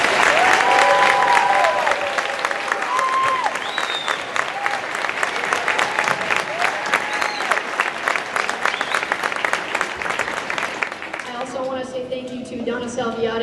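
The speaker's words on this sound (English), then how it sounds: "Can we have one more round of applause for the kids?" Loud, sustained applause from a large audience for children at a school spring concert, a dense roar of clapping that holds steady, then thins out near the end.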